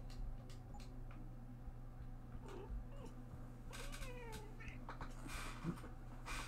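A cat meows in short, faint calls over a steady low hum and soft ticking inside a building in a video game, with a few brighter chirps toward the end.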